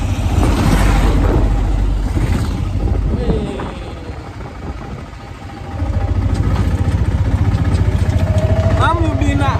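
A three-wheeled tuk-tuk engine putters and rumbles loudly while riding through Mombasa, its low idle steady beneath passing traffic and wind buffeting. People talk over the engine noise.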